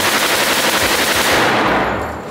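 A chopper-gunner machine gun and a .50 caliber sniper rifle fire at a shooting range: a loud, dense, continuous burst of gunfire that fills the whole moment, then begins to fade at the end.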